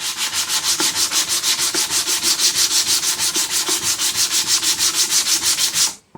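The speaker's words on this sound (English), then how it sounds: "you're going to take your sanding block with a 100 grit" Rhythmic back-and-forth sanding on layered wood with a 100-grit sanding block, a steady rasping scrape with even strokes about four per second, up close, then it stops.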